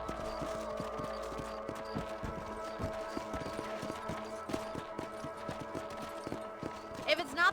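Horse galloping in Red Dead Redemption, rapid rhythmic hoofbeats pounding steadily throughout at moderate volume, with game ambience and a brief clatter at the end.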